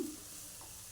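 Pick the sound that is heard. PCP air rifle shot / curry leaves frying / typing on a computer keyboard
curry leaves frying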